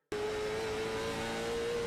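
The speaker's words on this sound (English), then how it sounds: "let's ride on board here with... Right on board here with the 93 of Josh Henderson" A late model stock car roars at Hickory Motor Speedway, heard onboard as a loud, steady engine drone at a sustained pitch with no talk.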